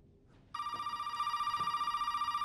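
In Resident Evil 7, a telephone abruptly starts ringing after a quiet moment, with a loud, sustained electronic ring that pulses rapidly and continues to the end.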